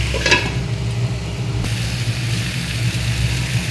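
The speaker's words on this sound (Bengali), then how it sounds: "ভালো করে কষতে হবে।" Fish curry sautés in a pan during Bengali kosha cooking, a steady close sizzle with soft stirring scrapes and a low hum underneath, no talking.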